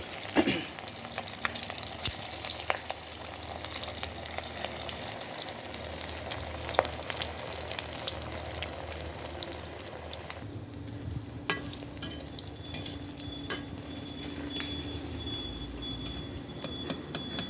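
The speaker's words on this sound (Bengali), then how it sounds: "এবার ভেজে নেব কাবাবগুলো, এবার ভেজে নেব।" Kashmiri mutton kebabs, pre-boiled and coated in ground spices, sizzle steadily in hot oil, with occasional scrapes and stirring clinks over a continuous frying hiss.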